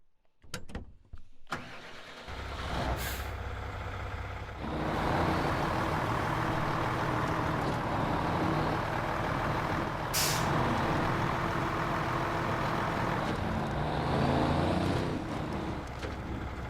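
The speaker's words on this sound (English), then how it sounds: "Yeah, this has the old handbrake sound." Handbrake of an in-game truck in SnowRunner, a Caterpillar CT380 or International HX, with a short air-release hiss early on, then a steady, loud diesel engine rumble running throughout, without talk.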